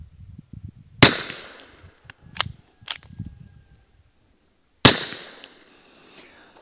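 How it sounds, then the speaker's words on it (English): Two sharp, loud shots from a B&T VP9 bolt-action pistol fired into dirt, each a sudden crack with a brief fading tail, several seconds apart, with small clicks and handling noises in between. "I'm going to shoot into the dirt this time twice so you guys can hear this"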